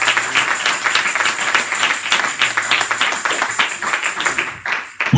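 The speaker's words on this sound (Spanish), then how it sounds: "Denle ese aplauso al Rey con todas sus fuerzas." A church congregation at a Spanish-language worship service claps loudly and continuously, a dense roar of hands that fills the room before tapering off at the end.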